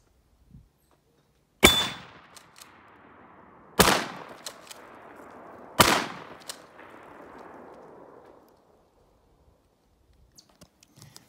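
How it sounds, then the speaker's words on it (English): Verkade 88 12-gauge shotgun fired at a steel plate outdoors: three loud, sharp blasts about two seconds apart, each ringing off with a metallic clang and a long fading echo, no talking. "This is my Verkade 88, 12 gauge, and I'm gonna shoot that steel plate with this thing."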